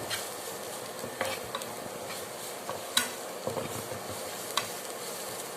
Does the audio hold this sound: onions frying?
yes